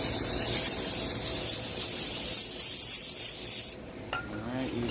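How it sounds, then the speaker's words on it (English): Brake cleaner sprayed onto a Honda Civic brake rotor, a loud close hissing spray lasting several seconds, then a sharp cut-off followed by quieter handling noises. "Spray brake cleaner on it."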